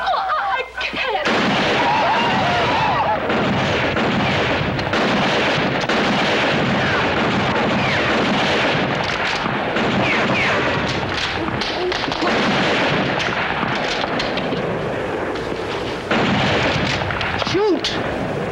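Repeated gunshots crack and thump through a frontier attack on settlers, mixed with shouting voices and scuffling for most of the stretch, loud and dense.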